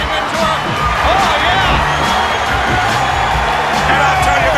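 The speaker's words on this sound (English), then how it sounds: "this capacity crowd is going crazy for these guys. Many are standing and cheering." A capacity arena crowd at a WWF wrestling event roars and cheers without a break, loud and dense, with whistles and whoops rising above a commentator talking.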